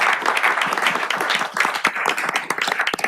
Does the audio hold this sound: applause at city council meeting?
yes